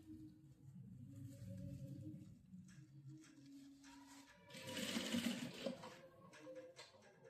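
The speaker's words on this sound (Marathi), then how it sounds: "बारीक अशी आपली एक प्रॉपर अशी शिलाई मारून घ्यायची दोन्ही बाजूने मारायची आहे" A sewing machine stitches cloth on both sides to make a Lakshmi garment at home, a faint continuous whirring run with a louder burst midway, heard quietly at close range.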